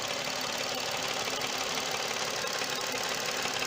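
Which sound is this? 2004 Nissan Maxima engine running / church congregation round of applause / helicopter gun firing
2004 Nissan Maxima engine running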